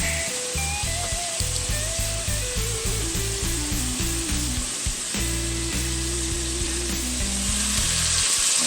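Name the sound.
tough cut of meat browning in hot pan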